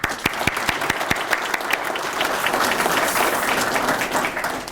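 An audience applauds Lt. John White of the Savannah Police Department at an honoring ceremony: a few sharp individual claps open, then dense sustained applause fills the rest, loud and steady.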